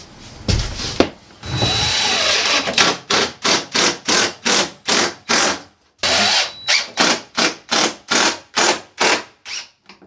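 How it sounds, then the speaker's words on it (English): A power drill whirs in a long continuous burst, then fires in a rapid series of short, evenly spaced bursts, loud and close, while adding windows to an enclosed trailer. "You grab the drill."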